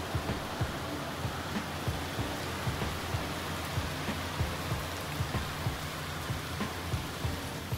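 Rain falling steadily as a dense, even hiss, with faint low taps and thumps recurring throughout and no voices.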